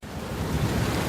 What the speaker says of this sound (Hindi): तभी जोरदार बारिश आ जाती है